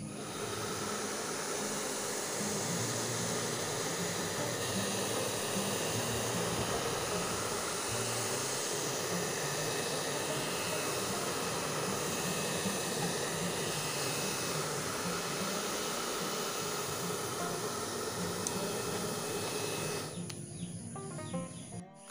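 A hair dryer blowing continuously at close range, a loud steady whooshing roar that holds for about twenty seconds before cutting off abruptly.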